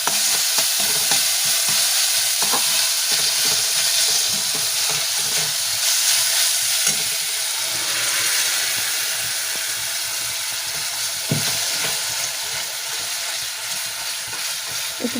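Tomato and green chili paste fries in a pan with a steady, close sizzle and scattered scraping stir clicks, as for Szechuan chicken momo sauce; no voices.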